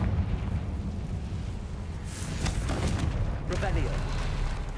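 Confringo fire spell explosions in the Hogwarts Legacy video game, a few booming blasts with crackling bursts over a dense rumbling game background, with voices speaking alongside.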